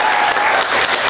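A theater audience at an improv comedy show gives a loud, dense round of applause, many hands clapping steadily and close throughout.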